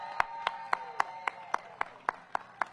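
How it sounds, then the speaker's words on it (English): About ten sharp hand claps from students at the Downtown DC Holiday Market opening, in a steady, even rhythm, spaced roughly a quarter second apart, moderately close with no voices. "Can I get a big round of applause from the students"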